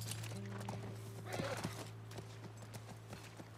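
A horse in a video game whinnies loudly over a steady low hum, with a few clopping hoofbeats scattered around it.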